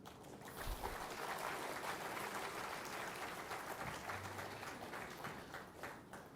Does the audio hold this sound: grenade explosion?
no